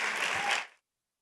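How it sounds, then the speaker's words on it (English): Audience applause for spoken-word poet Micah Bournes as he takes the stage, a dense burst of clapping that rings out for about two-thirds of a second and then fades quickly to silence. "Give him a round of applause as he comes."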